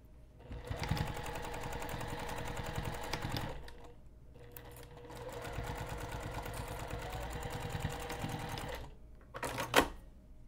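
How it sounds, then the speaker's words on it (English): A sewing machine stitches padded backpack straps onto a bag with an eighth-inch seam allowance in two long runs with a short pause between, a fast mechanical whir, followed by a brief final burst. "I'm going to take this over to the sewing machine, and we're going to sew both of these in place"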